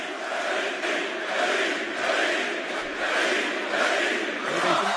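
WWE wrestling arena crowd of about 15,000 roaring and chanting continuously, a dense steady wall of voices with rhythmic swells, no clear single speaker.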